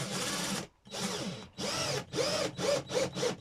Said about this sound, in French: il est en train de visser la cloison du frigo